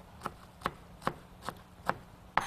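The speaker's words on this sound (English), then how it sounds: "Just chopping up some parsley to finish off the dish." A knife chopping fresh parsley on a cutting board as a finishing touch for a shrimp skillet, with six sharp, evenly spaced chops about every 0.4 seconds, close and fairly quiet, with no talking.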